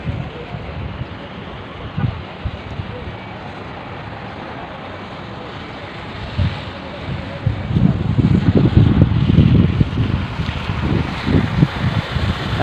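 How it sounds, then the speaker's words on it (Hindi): A big vehicle pushes through a flooded street after heavy rain, a broad rushing, sloshing wash of water building and growing louder toward the end over steady wind noise. "चेक करो, अभी गाड़ी आ रही है बड़े वाली।"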